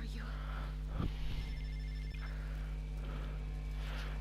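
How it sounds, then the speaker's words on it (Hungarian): A mobile phone rings inside the video game inFAMOUS First Light, its tonal ringtone pattern repeating steadily over a continuous low game hum, with soft thuds and clicks. "Ott a mobil."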